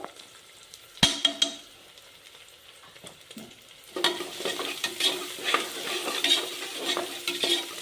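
Ginger paste frying with onion and chillies in a pan, a steady sizzle with stirring scrapes; a sharp clatter near the start, then louder, busier frying and spoon strokes through the second half.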